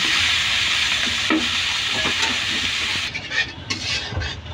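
Oil sizzles and spits loudly in a wok as rohu fish fries, a constant crackling hiss with a few clinks of a utensil.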